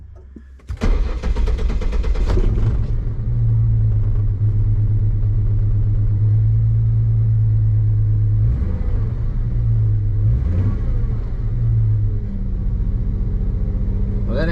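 A Mustang engine starts up and then runs in a steady, loud rumble, with the drone rising and falling a couple of times as it pulls away and drives on a test drive.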